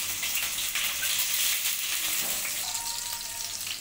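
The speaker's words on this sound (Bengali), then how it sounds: "রসুন আর কাঁচা লঙ্কাটা ভালো করে ভাজা হয়ে গেছে।" Chopped garlic and green chili fry in oil left over from frying fish manchurian, a dense, continuous close sizzle with slight stirring and no talk.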